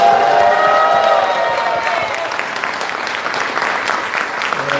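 An audience at an evening lecture by a National Assembly member in Cheongwon claps loudly and steadily, a dense wash of applause that fades slightly toward the end, with a faint voice early on.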